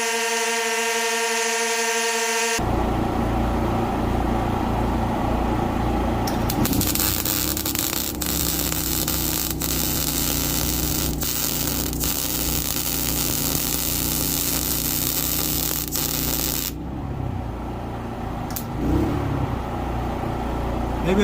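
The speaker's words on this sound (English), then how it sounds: "So now I'm going to switch to the other generator." A Predator portable generator runs steadily and loudly alone, its engine drone holding a constant hum with a brief surge and dip near the end, used to power a welder.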